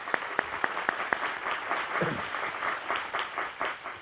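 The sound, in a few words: studio audience applause on game show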